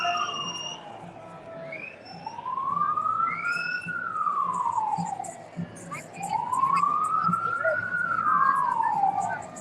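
An ambulance siren wails in two long rising-and-falling sweeps as it passes a street protest march against mandatory vaccines in Melbourne, loud and steady over a constant crowd murmur.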